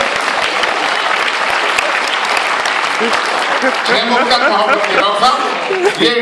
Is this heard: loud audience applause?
yes